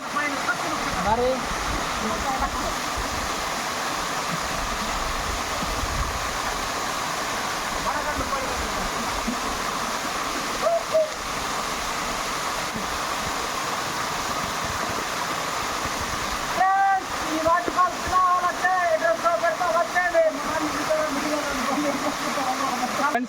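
A hidden waterfall pours with a constant broad rushing roar, steady and close throughout, with voices occasionally audible beneath.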